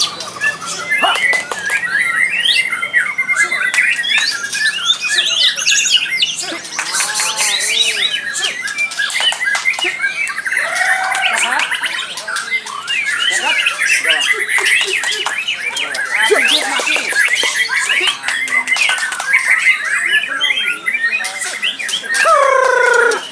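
A white-rumped shama (murai batu) sings loudly and continuously at a bird-singing contest, with dense chirps, whistles and harsh calls layered over a busy crowd.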